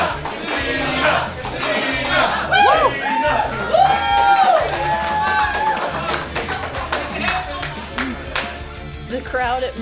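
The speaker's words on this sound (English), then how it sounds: "They were cheering and screaming and coming up with fun little cheers." A pub crowd cheers and shouts during a burger eating challenge, with loud overlapping voices, rhythmic chanting and clapping that keep going without a break.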